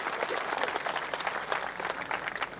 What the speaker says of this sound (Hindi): एक बार तालियां दी स्वागत करो